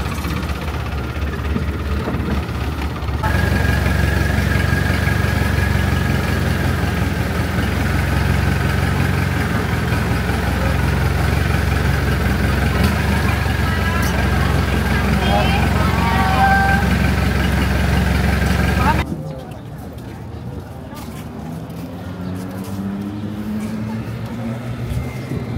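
A machine engine runs with a loud, steady low rumble and a faint whine for about sixteen seconds, then drops to a softer drone as people talk nearby throughout.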